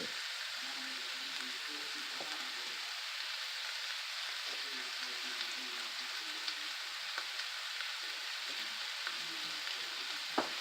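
Ground beef with garlic powder, onion powder and black pepper sizzles and crackles steadily as it browns in a pan, a constant close frying hiss with occasional pops.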